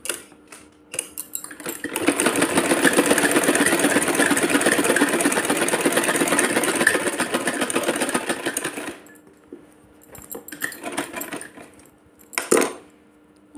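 A sewing machine stitches a small woolen dress in a steady, fast mechanical whir lasting several seconds, with brief clicks and handling noises before and after.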